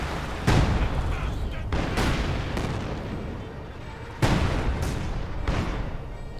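A Pak 40 anti-tank gun fires in Company of Heroes 2, with two heavy booming shots a few seconds apart over dense battle noise, while a commentator talks throughout.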